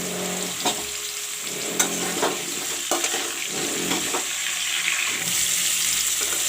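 Steady sizzling of red pumpkin pieces frying in hot oil, with occasional stirring clatters and scrapes, close by and with no talking.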